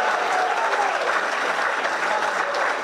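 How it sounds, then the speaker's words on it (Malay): A crowd gives students a loud, continuous round of applause at a hydrogen technology talk, dense clapping held at an even level from start to finish. "Satu tepukan gemuruh untuk adik-adik sekalian"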